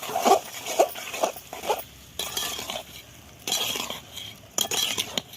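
Cabbage and mixed vegetables tipped into a pan of fried spices and stirred, giving repeated scraping and clinking bursts of utensil against metal with soft sizzling, close and moderately loud, no talking.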